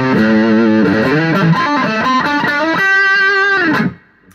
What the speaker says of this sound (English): Start getting this extra sustain from all the drives and the compression that go on with the drives.